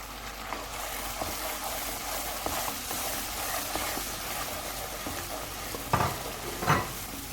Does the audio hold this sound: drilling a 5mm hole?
no